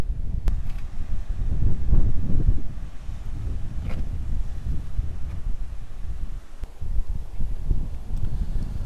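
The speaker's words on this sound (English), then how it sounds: "it's pretty windy down here" Strong wind gusting outdoors on Tenerife, buffeting the microphone with loud, uneven low rumbles and rustling that swell and fade continuously, with a few faint clicks.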